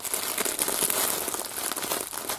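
A plastic bag of fabric trim remnants handled up close, continuous crisp crinkling and rustling at moderate volume.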